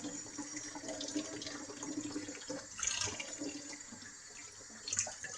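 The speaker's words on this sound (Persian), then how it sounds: "وای میسی آب گرمه" Hot water runs steadily from a kitchen tap into a sink, a continuous moderate splashing hiss with brief louder surges, no voices heard.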